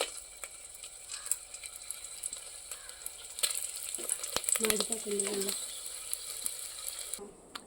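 Dried red chillies and garlic dropped into hot oil, a close, busy sizzle with crackling and scraping stir sounds that swell in the middle, no talk.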